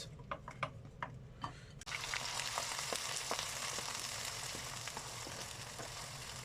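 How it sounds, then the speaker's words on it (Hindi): Onions hit hot mustard oil about two seconds in, bursting into a loud, dense sizzle that settles into a steady close frying hiss, after a few light clicks and taps. "हमारा ऑयल गर्म हो चुका है। अभी इसमें ऐड करेंगे प्याज।"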